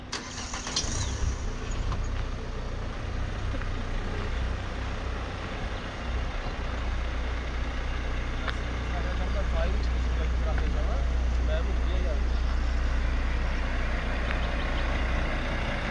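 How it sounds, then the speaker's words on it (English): Heavy road traffic with many trucks and cars on the way to Turkey, a dense continuous rumble of engines and tires with low drone throughout, voices talking over it. "You could see the traffic is really terrible. There are a lot of trucks and cars"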